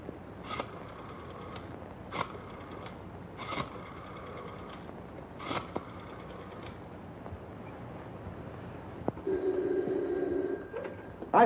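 Old-fashioned telephone bell in a 1938 detective film, ringing in several short, evenly spaced bursts against a quiet room, followed by a brief buzzing tone.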